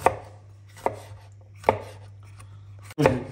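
A kitchen knife chops red bell peppers into strips on a board, with four sharp, evenly spaced cuts over a steady low hum.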